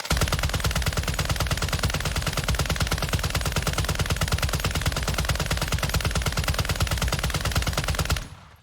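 Sustained automatic gunfire in Warzone 2 during a recoil test, a rapid, even stream of loud close shots lasting about eight seconds before stopping abruptly, with no talking.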